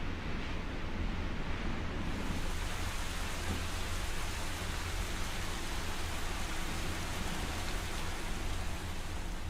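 Rain from the weather soundscape of the X-Plane flight simulator: a dense, steady hiss of falling rain that swells in after the first couple of seconds and continues evenly, loud and unbroken, with no voices.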